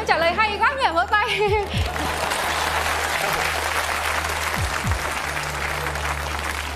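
A theatre audience at a Vietnamese stage comedy show bursts into applause after a line of dialogue, dense clapping that fills the room steadily after a short spoken phrase, with two low thumps under it.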